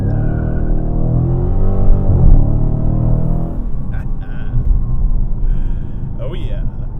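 A 2017 Dodge Challenger R/T Scat Pack V8 engine revs loud and close, its deep harmonic growl rising through the first few seconds then settling into a rough, steady rumble.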